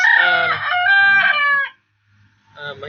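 A rooster in a bonsai garden crows loudly and close by, one long drawn-out call, then a short pause before another crow begins.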